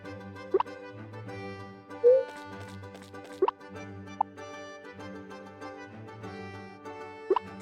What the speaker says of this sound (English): And stir the heart fruit.